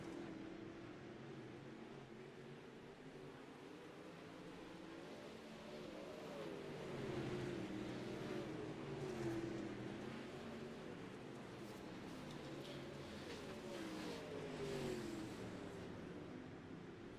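Pro Late Model race cars idle and rev steadily at Lincoln Speedway in a sim racing game, a continuous engine drone with rising and falling pitch sweeps, no talk over it.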